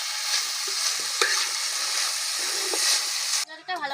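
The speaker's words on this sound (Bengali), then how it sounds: "ভালো করে নেড়ে চেড়ে দিচ্ছি।" Beets and carrots sizzle in a pan while a spatula stirs them, a close steady frying hiss with a few scrapes, after which the sizzle cuts off.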